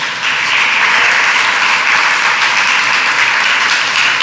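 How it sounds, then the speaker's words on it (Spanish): Church congregation applauding at a Spanish-language spiritual warfare service, with dense, loud, steady clapping that fills the room for several seconds with no break. "Den un aplauso al Espíritu Santo."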